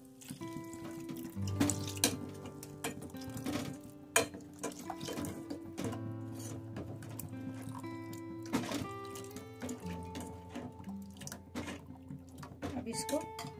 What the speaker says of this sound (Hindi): करके यहीं पर पानी डालेंगे